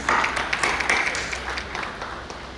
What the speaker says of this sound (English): A big round of applause for all the dignitaries sitting on the dais of the dais and our beautiful audience.